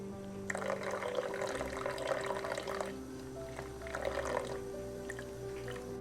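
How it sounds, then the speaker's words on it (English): Running water rinsing conditioner out of a doll's hair, a steady splashing, dripping stream at moderate level with a short lull midway before the flow picks up again. "He goes back and gets the conditioner rinsed again, and I make sure that the conditioner is rinsed thoroughly."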